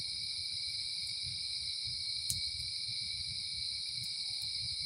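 Crickets chirp outdoors in a steady, continuous high trill that holds evenly from start to finish, with no voices over it.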